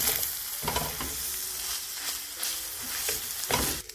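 Squid is stirred in a hot pan with chili and coriander, a steady soft sizzle with scraping stirs and light clicks of the utensil against the pan, close by and fairly quiet, with no voices.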